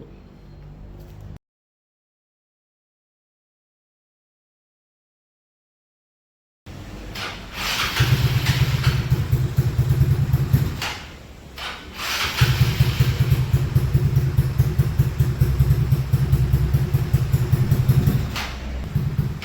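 A yellow Yamaha Mio scooter with a prototype exhaust, long unused, cranks after a pause and starts, then runs with a loud, steady burbling idle and blips of throttle, briefly dipping before revving on.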